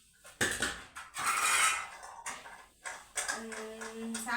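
A metal idli steamer pot is handled with clanks and scrapes of metal cookware, several sharp knocks and rattles in quick succession, close and fairly loud.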